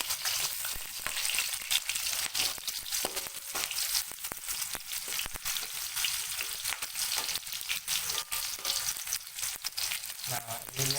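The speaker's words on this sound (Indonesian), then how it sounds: "di sini saya sudah memanaskan minyak ya teman-teman untuk menggoreng si bawang" Shallots and garlic fry in hot oil with a steady, crackling sizzle that runs evenly throughout, close and moderately quiet, with no talking over it.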